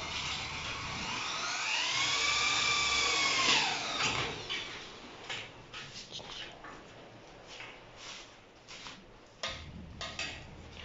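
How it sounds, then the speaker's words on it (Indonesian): A power drill whirs as it bores a hole for an aircon service platform. The motor sweeps up in pitch over a few seconds and then breaks into rougher bursts, heard at a modest distance. "Drill satu lagi kat situ."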